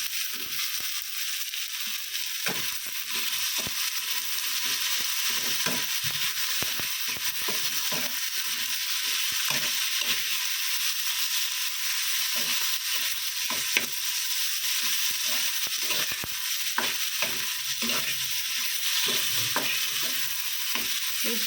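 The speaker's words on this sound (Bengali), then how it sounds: "আলুটাও ভেজে নেবো একটুখানি" Mashed potato frying in a pan with onion, garlic, green chili and tomato, a steady hiss of sizzling broken by frequent scraping and stirring clicks throughout.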